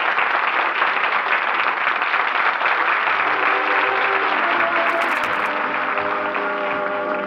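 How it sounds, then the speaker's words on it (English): A theater audience of first nighters applauding at a hit play off Times Square, dense steady clapping throughout, with music entering underneath midway. "The first nighters are on their feet demanding encores. Listen to them applaud."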